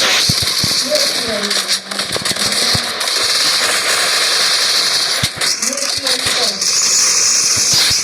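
AWM sniper rifle fire in a shooter video game: sharp cracking shots and crackling bursts over a continuous bed of game noise, with a voice talking loudly throughout.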